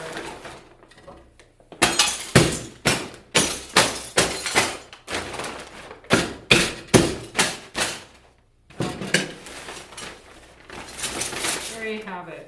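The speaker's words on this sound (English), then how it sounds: "put it back in your bag, cover it up, and hit it a few more times with the hammer" Glass broken with a hammer inside a covered bag, a series of loud, rhythmic crunching and shattering blows at close range, pausing briefly before more strikes and ending with clinking shards.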